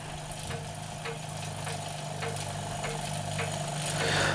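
A Wilesco D2 miniature model steam engine running on its small burner gives a steady, soft mechanical chuffing hum, with faint rhythmic beats about twice a second that grow slightly louder toward the end.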